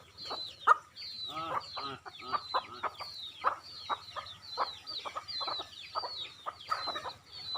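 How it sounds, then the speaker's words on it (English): Village hens in rural Bengal cluck in a busy, overlapping stream of short calls, with other birds chirping in the background and no voices. "The hens cluck and the cocks crow"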